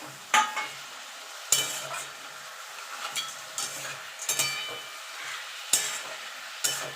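Greens with potato, eggplant and bori are stirred in a pan, giving sharp scraping strokes at irregular intervals over a soft steady sizzle, close and moderately loud, with no talking.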